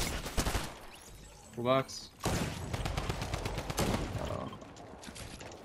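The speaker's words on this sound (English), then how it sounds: "they're shooting each other" Sharp gunshots ring out in a competitive video game match, quick cracking shots in clusters mixed with game sounds, while players talk over them.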